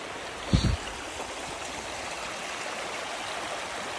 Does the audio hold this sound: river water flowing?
yes